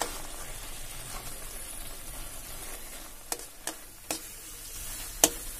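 A spoon stirs taro leaves cooked with chickpeas in a pan. A soft sizzle runs underneath, with a few sharp scrapes and clicks near the end and no talking.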